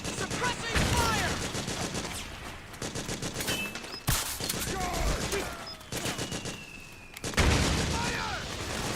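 Gunfire in Metal Gear Solid 4: Guns of the Patriots: repeated bursts of rifle and machine-gun shots with sharp booming impacts rattle throughout, close and loud, mixed with shouted voices.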